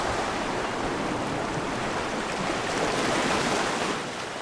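Ocean surf at the beach in Manuel Antonio National Park, Costa Rica, a steady broad wash of breaking waves, continuous and fairly loud with no voices.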